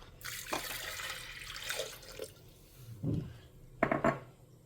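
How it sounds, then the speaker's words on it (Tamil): Tomatoes are washed in water in a home kitchen, with splashing and swishing, a few sharp clatters of a vessel, and brief pours, close and intermittent with no talking. "அந்த 4 பருப்புக்கு தக்காளியை அலம்பி அப்படியே போட்டுடுறேன்"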